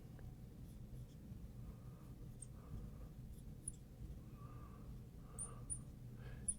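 A pen or marker draws the connecting lines of a Lewis dot structure, making faint, intermittent squeaky strokes over a low room hum.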